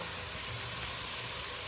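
Fried pointed gourd, potato and tiger prawns sizzling as they are added to frying spices in a pan, a soft, steady hiss at low volume.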